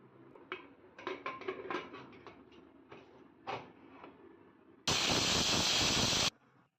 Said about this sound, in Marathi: आता कुकरला झाकण लावून 3 शिट्ट्या करून घेऊया.